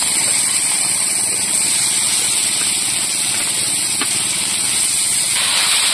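Live kuche fish dropped into hot, frying spice paste in a home kitchen give a steady, loud hiss and sizzle that holds constant throughout, with no talking.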